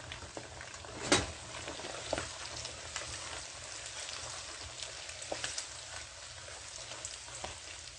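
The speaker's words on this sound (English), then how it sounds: "I'm going to go ahead and fry the whole set" Meat fries in a pan on a stove, a steady close sizzle and bubbling hiss with occasional pops and spatters, heard alone without talk.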